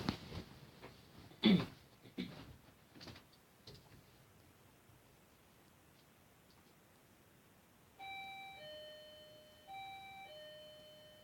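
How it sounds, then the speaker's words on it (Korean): A doorbell chimes twice in a home, the two-tone ding-dong repeating clearly after some scattered knocks and handling noises earlier. "어, 잠시만. 우리 집에 초인종이"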